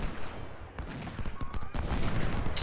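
Massed musket volleys from skirmishers in the Civil War strategy game Ultimate General: Civil War, crackling in irregular overlapping bursts at mid distance with a dense battle din underneath.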